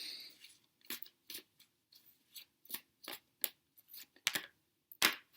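Tarot cards being shuffled by hand: a series of crisp, papery riffles and snaps in uneven bursts, close and fairly quiet, with short pauses between, and no talking.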